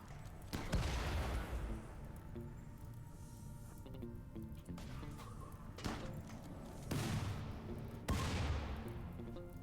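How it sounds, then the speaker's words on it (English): Grenade explosions in RimWorld: several heavy booming blasts spread a second or two apart, each with a rumbling tail, over a busy background of smaller battle noises. "Yeah, got a grenade on all 3 of them."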